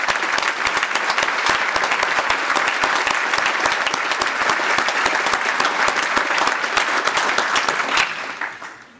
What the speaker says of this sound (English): Please join me in one more round of applause for all of our recipients today.